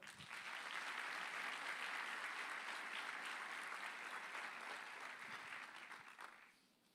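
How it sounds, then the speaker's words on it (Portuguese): A church congregation applauds together, a loud, unbroken roar of clapping from many hands that holds steady for several seconds before tapering off quickly at the end. "Vamos aplaudir o Senhor."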